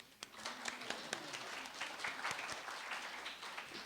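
Applause for educators at a teaching celebration, a fairly quiet, distant round of clapping with individual sharp claps standing out over a steady patter.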